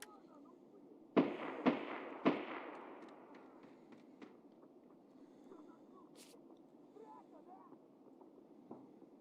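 A few distant gunshots crack in quick succession in Escape From Tarkov, followed by fainter scattered pops over a low ambient background.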